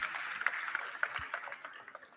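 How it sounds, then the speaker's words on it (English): Scattered applause from a conference audience honoring translators at a sports journalists' congress, quiet and distant with irregular individual claps and soft murmuring beneath. "please, big applause to our translators"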